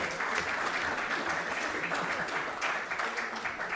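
An audience at an evening talk at Forte Marghera claps for the president, with dense, even applause sustained without a break and no voices over it.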